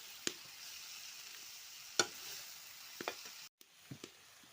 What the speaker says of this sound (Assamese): মই ভাজি বনাই আছোঁ।